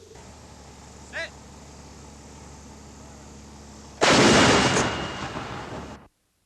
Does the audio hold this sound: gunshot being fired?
yes